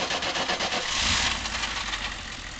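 A 6.5 turbo diesel engine cranks and fires up, swelling briefly before settling into a steady, rough idle, close and moderately loud with no talking.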